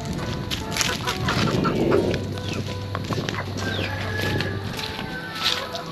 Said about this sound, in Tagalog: Pakainin na natin yung ating alaga mga manok.